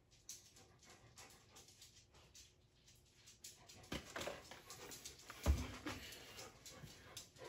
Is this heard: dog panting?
yes